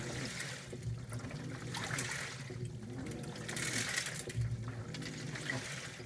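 An LG top-load washing machine runs an extra rinse on its normal cycle, giving steady sloshing and trickling water over a low motor hum, continuous and fairly close throughout.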